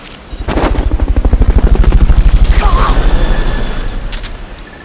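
Helicopter from Metal Gear Solid: Peace Walker, used for Fulton recovery, thumps in with loud, rapid rotor pulses that swell and stay strong before fading, with mechanical clatter over the top.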